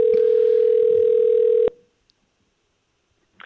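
A steady electronic phone tone sounds loudly for about a second and a half, then cuts off abruptly into near silence.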